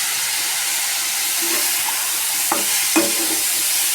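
Mushrooms sizzle steadily in a hot pan for chilli mushroom, with a couple of sharp stirring scrapes near the end over a constant frying hiss.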